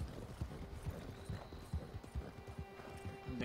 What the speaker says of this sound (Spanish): Ya tienen el caballo ese, creo que quejándose.